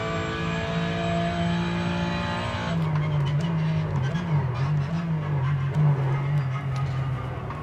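Porsche 911 race car in iRacing, engine droning loudly at steady revs, then shifting to a wavering higher whine with faint tire scrubs as it rounds the track, no voices.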